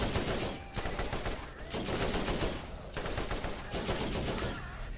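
Rapid automatic turret gunfire from the video game Borderlands, loud and sustained in dense bursts with brief gaps, a continuous barrage of shots filling the scene.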